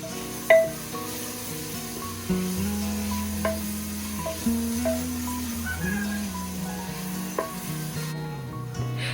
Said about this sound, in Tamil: வெங்காயத்துக்கு தேவையான அளவு உப்பு சேர்த்துட்டு நல்லா வதக்கி விட்டுக்கலாம்.